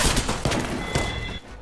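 A rapid burst of gunshots in the battle royale game Apex Legends, with several sharp cracks in quick succession, loud and close, ending in a short ringing tail.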